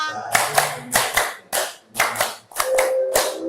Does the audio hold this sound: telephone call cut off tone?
no